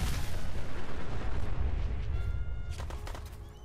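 A fragmentation grenade goes off in the video game Fallout 4 with a heavy, rumbling blast that rolls on loudly for several seconds, then thins out into softer debris and echo.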